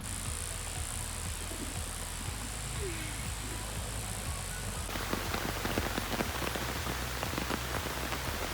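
Steady rain falls throughout, a dense broadband hiss of drops striking a surface, growing more crackly and spattered in the second half, with no talking.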